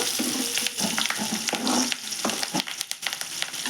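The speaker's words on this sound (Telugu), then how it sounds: "బాగా ఫ్రై చేసుకున్నామండి ఆయిల్లోనే అన్నీ" Eggs and spices, with a little turmeric, frying in oil in a pan, a steady close sizzle with soft stirring clatters and brief watery crackles throughout.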